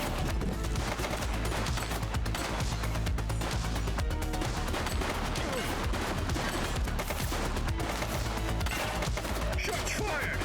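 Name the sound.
gunshots in The Precinct video game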